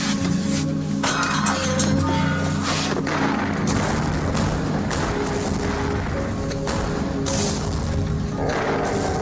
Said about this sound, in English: another barrage of bazooka fire could start a rock slide and bury us all